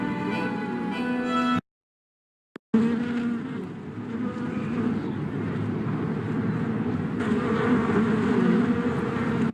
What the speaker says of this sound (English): Santa pace, Nancy, look what the bees did to you.